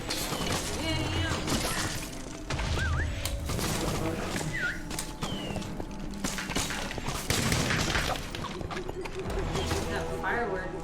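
Repeated crackling bursts and booming pops from Minecraft Dungeons fireworks, with whistling rising streaks between blasts, layered over lively talk and game music.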